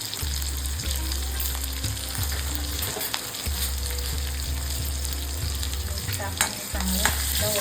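Curry leaves, chilli and ginger garlic paste sizzle and crackle in a hot pan as a spoon stirs them, with a steady frying hiss and regular scraping strokes close by.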